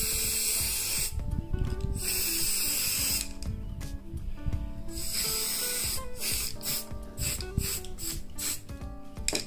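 Red spray paint hisses from an aerosol can onto a car battery terminal rod in bursts of several seconds with brief pauses, loud and close, with no talking.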